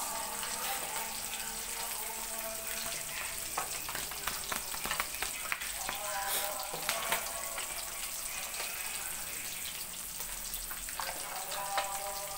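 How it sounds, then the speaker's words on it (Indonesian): Fish caught in the Mahakam river frying in hot oil, a continuous close sizzle with crackling spits and occasional stirring clatter, no one speaking. "Goreng iwak guys."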